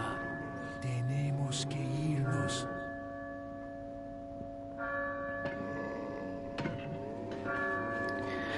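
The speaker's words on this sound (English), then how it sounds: "But we got the bells ringing, which inadvertently saved Leon." Church bells in the video game Resident Evil 4 ring out in slow, sustained tolls with long ringing overtones, steady and fairly loud over a low ambient hum, with no talking.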